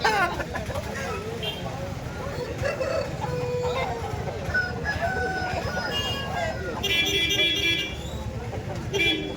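An Andhra breed rooster crows amid a busy outdoor scene, its call rising through constant background noise while people talk nearby.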